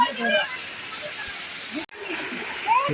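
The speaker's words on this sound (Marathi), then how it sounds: "बघा असा मस्तपैकी धबधबा आहे" A garden waterfall in Vishrantwadi, Pune splashes and rushes steadily nearby, with people talking over the flowing water.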